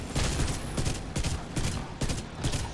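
Automatic turret gunfire in a video game boss fight, several sharp bursts of rapid shots repeating at irregular intervals, close and loud with no talk.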